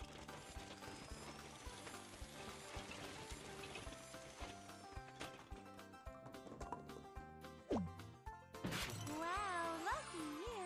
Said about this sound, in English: You have 5 chances of smashing the egg.